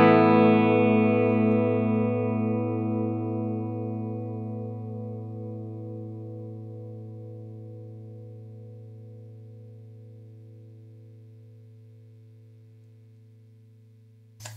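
A single clean guitar note played through a Nace M3-7R amp head rings out and sustains for many seconds. It decays slowly and smoothly with steady harmonics, and it cuts off abruptly at the end.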